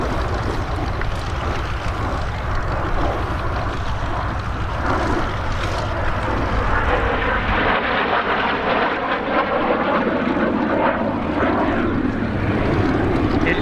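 A Canada-built Sabre Mark 6 jet flies at Old Buckenham Airshow, a loud sustained roar with shifting tonal sweeps as it passes, no talk.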